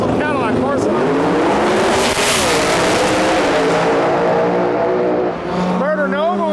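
At a drag race, a Cummins diesel Cadillac and the Murder Nova launch down the strip. Loud engines rev and roar with rising and falling pitch, and an announcer talks over them throughout.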